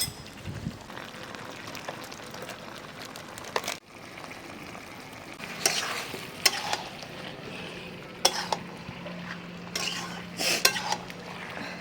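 Curry sautéing in a pan with Kashmiri chilli powder, at a rooftop picnic, a steady sizzle under scraping spoon strokes and occasional clanks against the pan, close and continuous.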